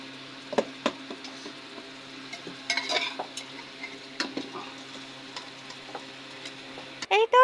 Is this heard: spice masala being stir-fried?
yes